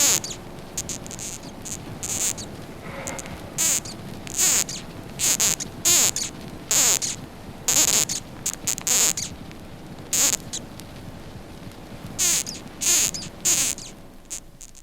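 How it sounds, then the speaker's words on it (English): Death's head hawk moth giving repeated sharp, high squeaks in irregular short bursts, close and clear against a quiet background. "It can produce an audible squeak to frighten predators away."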